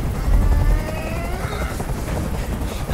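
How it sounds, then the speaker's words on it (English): A helicopter hovering overhead during a hostage standoff in a video game, a loud low rotor thump and drone that swells briefly early on, then settles into a steady churn. "I can't stand that noise anymore. Tell that helicopter to get out of here."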